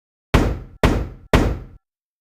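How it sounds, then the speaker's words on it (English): Three evenly spaced heavy knocks on a locked door, each a loud dull thud with a short decay, close by and alone with no talk. "One of them knocks."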